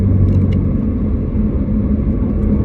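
A race car engine drones in seventh gear at about 2000 rpm, a loud and steady low rumble with no break, heard from inside the car. No voices.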